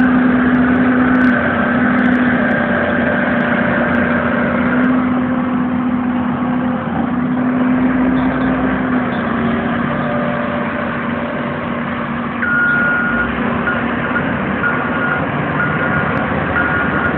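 Construction machinery engines drone loudly and continuously at a building site, with a truck's reversing beeper chirping in a steady repeated pattern over the rumble and no voices.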